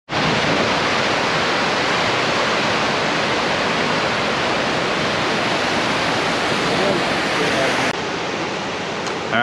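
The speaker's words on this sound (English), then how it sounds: "Manabezo Falls. I have no idea how you say it, but check that out." Manabezo Falls on the Presque Isle River roars as a loud, steady broadband rush of falling water, close and unbroken throughout.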